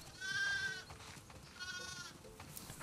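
Sheep bleat in a snowy farm scene of the video game The Last of Us Part II, two clear, wavering cries a second apart, near and fairly loud, with no talk over them.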